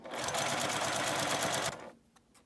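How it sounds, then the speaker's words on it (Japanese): A sewing machine backstitches the seam of an eco fur tote bag, a loud, close, rapid whirring burst lasting under two seconds before stopping, followed by a few faint clicks. "はじめは返し縫いをします"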